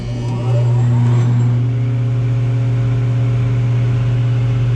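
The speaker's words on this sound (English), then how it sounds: "Let's give it a whir here," A restored Porter 20-inch jointer spins up and settles into a steady, loud mechanical hum with a strong low tone, running alone without talk.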